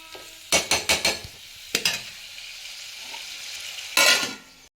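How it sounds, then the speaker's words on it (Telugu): Mutton curry pieces frying in oil for a Telangana function dish, with a steady sizzle under several loud clinks and scrapes of a spoon stirring against the pot. "ఇదైతే మంచిగా నూనెలో ఫ్రై అవ్వాలి"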